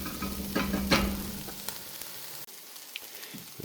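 Onions frying in butter in a pan, a loud close sizzle with stirring scrapes at first that fades to a softer, quieter crackle with occasional small pops.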